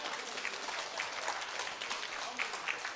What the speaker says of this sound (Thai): ขอเสียงปรบมือดังๆด้วยค่ะ